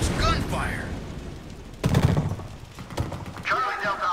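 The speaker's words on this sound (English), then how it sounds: "That's gunfire!" Bursts of gunfire in the video game Deadlight, sharp broadband cracks clustered in the middle, mixed with game sounds and someone talking before and after.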